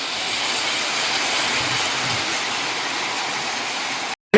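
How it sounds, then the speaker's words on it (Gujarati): A torrential downpour in a strong storm makes a continuous roaring wash of noise that holds steady and cuts off abruptly just before the end. "વરસાદ છે મિત્રો."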